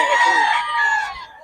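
A rooster crowing at a gamecock market in Bocaue, one loud, close cock-a-doodle-doo with a strong harmonic rasp, tapering off quickly.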